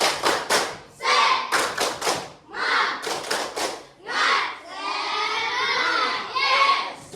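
Children perform the rhythmic "tepuk semangat" clapping chant, with sharp grouped claps and shouted chanting voices, then a sustained burst of loud, excited shouting from the group.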